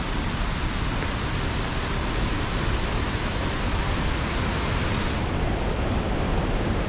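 Rushing water of Tad Yuang waterfall near Pakxong, a dense, steady, broadband roar filling the whole span, close and loud with no pauses or voices.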